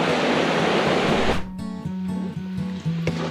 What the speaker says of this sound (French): Et puis il y a une petite cascade là.